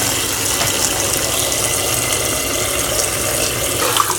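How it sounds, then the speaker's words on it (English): Tap water pours steadily over green bananas being rinsed in a pot for a Caribbean oxtail stew, a continuous close gushing splash with no talk. "put some water over them all, rinse them off again"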